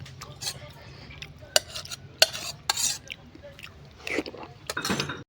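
A broom sweeps a home courtyard in irregular scratchy swishes and brushing strokes, some sharp and close, with quiet gaps between them.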